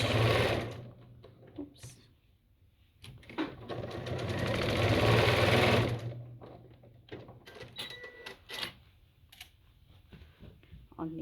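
A sewing machine back stitching the seam of a fabric basket, running in short bursts with a longer steady stretch of stitching in the middle, then quieter handling clicks and a brief spoken word.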